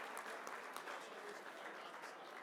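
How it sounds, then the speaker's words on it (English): Convention audience applauding sponsors at an AHEPA Supreme Convention, a steady wash of many hands clapping, fairly faint and distant, with no talk over it. "One round of applause for all the sponsors."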